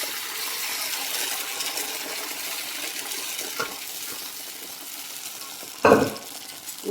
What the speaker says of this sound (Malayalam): ഇതിലേക്ക് നമുക്ക് ഈ കടല വേവിച്ചത് ഒഴിച്ചു കൊടുക്കാം